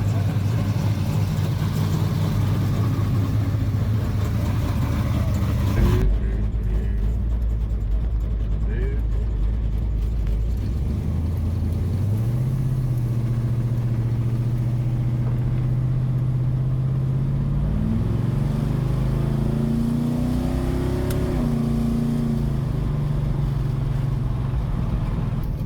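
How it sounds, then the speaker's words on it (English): A 1958 Chevy engine running while the car drives, a deep, steady rumble that rises and shifts in pitch as it moves, with people talking over it. "I just got done driving the 58 Chevy"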